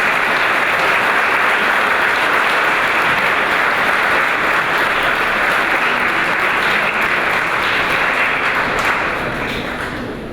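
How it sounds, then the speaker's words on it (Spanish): Sustained audience applause for visiting lecturers at a conference talk, a dense, even wash of many hands clapping that holds steady for about ten seconds before tapering slightly at the end. "les pido un fuerte aplauso para ellos"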